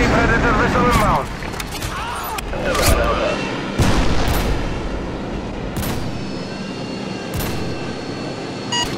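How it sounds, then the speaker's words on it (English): Predator missile strikes and other explosions in multiplayer Call of Duty: Modern Warfare 2, several heavy booms and bursts of gunfire across a dense battle mix, with radio-style game voice callouts over the top. "Friendly predator missile inbound."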